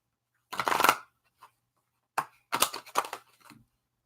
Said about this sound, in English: All right, let me go ahead and shuffle.